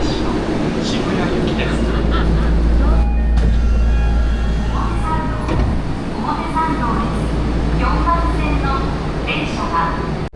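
Ride aboard a Tokyo subway train: loud, steady low rumble of the running carriage with hissing and rattling throughout, people talking over it.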